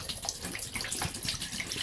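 Liquid is poured into the drain of a camper shower while the camper is being winterized, making a soft, close splashing trickle that runs steadily for a couple of seconds with no talk.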